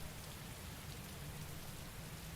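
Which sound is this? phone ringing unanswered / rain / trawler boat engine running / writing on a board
rain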